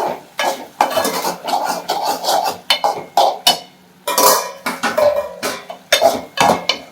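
Tomatoes sauté in a pan while a utensil stirs them, making repeated clattering scrapes and knocks in an uneven rhythm, with a light sizzle beneath.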